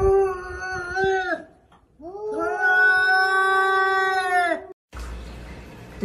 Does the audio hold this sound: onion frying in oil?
no